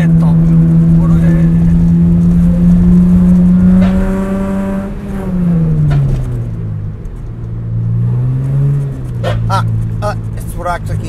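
A Mitsubishi FTO engine drones steadily while driving, its pitch sliding up and down with throttle changes, loud and close throughout.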